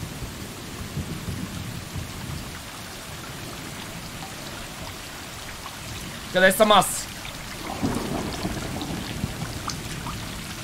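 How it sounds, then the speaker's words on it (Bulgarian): Steady rain hisses in a cat video game, broken midway by a short loud rumble of thunder, while someone speaks briefly over it. "Какъв дъжд само!"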